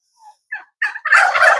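A Royal Palm turkey gobbles close by: a few short faint calls build into a loud, rapid rattling gobble.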